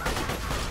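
A short, dense burst of rapid gunfire from a Borderlands 2 firefight, loud and close, packed shots blurring together in under a second.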